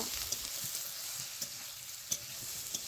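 Tender okra frying with salt and turmeric in a pan, a soft steady sizzle with occasional light clicks of stirring, close and quiet with no talk.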